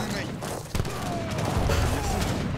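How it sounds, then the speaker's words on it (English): Sevastopol mortars in the Age of Empires 3 game let off repeated crackling blasts over a busy battle din, with one sharper report partway through and voices talking underneath. "Okay, I have five Sevastopol mortars now."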